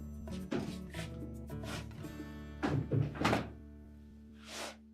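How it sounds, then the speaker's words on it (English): Whirlpool refrigerator door opening and closing after a pantry drawer repair: several quiet thunks and soft knocks at close range, spread unevenly over a few seconds, and no talk. "Check the operation, make sure the door opens and closes as it should."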